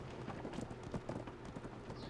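Quick rhythmic clip-clop of horse hooves galloping in the online role-playing game Black Desert Online, a steady fast patter of hoofbeats at moderate volume.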